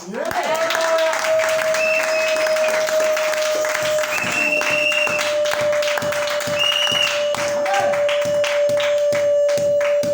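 Church congregation applause and acclamation during a sermon, sustained clapping and crowd noise for about ten seconds with a steady tone running underneath.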